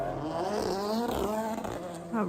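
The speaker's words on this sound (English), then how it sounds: "that noise was the Power Maxed race car" A Power Maxed race car engine revs at Motofest Coventry, a loud rising and falling harmonic drone with gear changes, and a voice talks over it.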